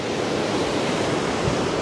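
Rushing water from a waterfall pours as a dense, steady broadband roar, close and loud, brief and unbroken, with no voices.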